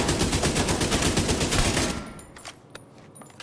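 Rapid automatic gunfire in The Division 2 rattles in a fast, steady stream, loud and close, then stops abruptly, leaving a few faint scattered shots and impacts.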